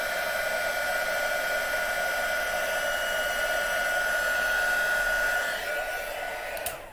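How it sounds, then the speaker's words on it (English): Heat tool running for heat embossing at a craft table, a steady loud blowing whir like a hair dryer that holds constant for about seven seconds before cutting off. "I have got some more heat embossing to do."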